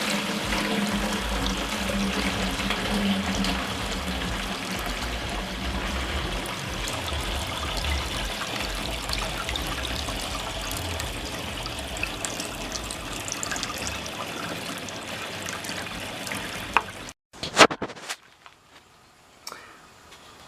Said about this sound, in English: using a simple funnel, we're going to start filling the HillBilly Still